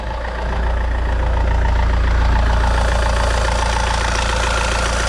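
An Alfa Romeo or Fiat car engine idles steadily after an oil leak repair, a loud close rumble with a fast, even pulse and faint ticking, running alone without any talk.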